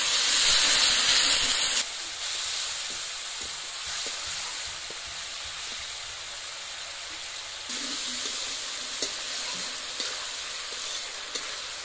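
A loud, steady sizzle and hiss after water is added to a frying pan of small fish with dry chilli powder in a village kitchen, with occasional stirring clicks and no voices.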